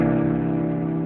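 A single low piano note, the root of a gritty blues chord, rings steadily and evenly for about a second, close and fairly loud with no attack or decay in view.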